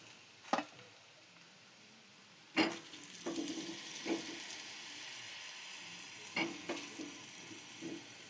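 Jowar flour dhirde frying in oil in a pan, a steady soft sizzle interrupted by several sharp knocks and scrapes of a spatula against the pan, with no talking.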